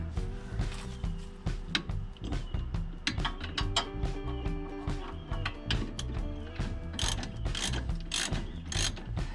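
Ratchet wrench clicking steadily on a Duramax truck's brake caliper bracket bolt during a disc replacement, a busy rapid mechanical ratcheting that runs nearly continuously with short pauses, close and fairly loud.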